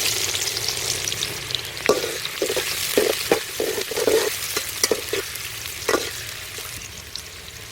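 Onions fry in oil in a pot for a peas and potato pulao, a steady bright sizzle under a series of soft rhythmic stirring scrapes and taps, close and fairly loud.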